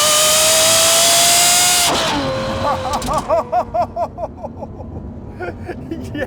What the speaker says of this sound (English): That exhaust note is so good.